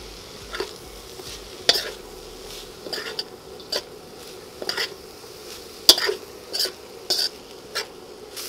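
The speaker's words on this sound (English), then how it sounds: "So I'm going to go ahead and drop our cabbage in it now." Cabbage stir-fried with lean pork in a wok gives a faint sizzle under scattered metal utensil scrapes and clinks against the pan, irregular and fairly close.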